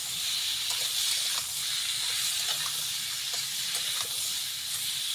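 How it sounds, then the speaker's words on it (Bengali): Potato and pointed gourd fry in oil with turmeric while being stirred, giving a steady, even hiss close by that runs throughout, broken by small scraping ticks from the stirring. "আলু পটলটা এইভাবে কষিয়ে নেব, সুন্দরভাবে নেড়ে নেড়ে ভেজে দেবো।"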